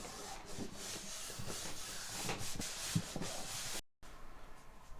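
Rubbing and scrubbing with cleaner against the glue-marked body of a Norman B20 acoustic guitar, a steady close-up friction broken by short strokes, with a brief cut near the end.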